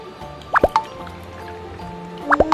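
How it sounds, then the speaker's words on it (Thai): A liquid mixture for homemade ice cream poured slowly at home, a few close, distinct plops and drips in two small clusters over a quiet background. "น้องเอ๋ค่อยๆเท"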